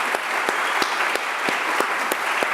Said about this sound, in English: Give these ladies a fine round of applause.